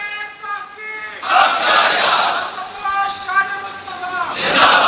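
A crowd at a religious gathering commemorating the Battle of Badr raises a loud, sustained slogan chant in repeated surging bursts, voices swelling together in rhythmic waves.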